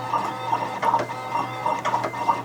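An embroidery machine stitches a design onto a hat, giving a steady, close, rapid mechanical whirring with rhythmic clacking pulses repeating about every half second and a constant low hum beneath, with no talk.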